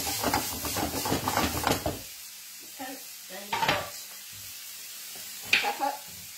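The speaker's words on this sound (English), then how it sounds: "Sizzling away." Spicy bean burgers fry in a pan with crackling sizzle and spatter, bursts of activity at the start and a few short sputters later, fairly close and moderate in level.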